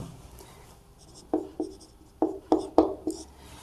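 Pen or chalk writing out a maths relation for a class 12 exercise: a run of distinct taps and scratchy strokes, about six sharp hits in quick succession, close and clear with no talk.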